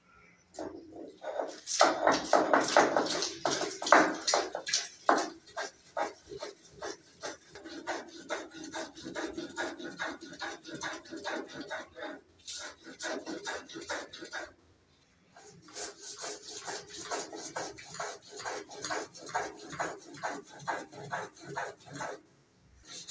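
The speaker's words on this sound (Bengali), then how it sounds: "তো চলো তাহলে মশলাটা বেটে নিই" Poppy seeds and green chillies are ground into a spice paste on a stone, a rapid rhythmic rasping scrape that runs in long bursts, broken by brief pauses, close and fairly quiet.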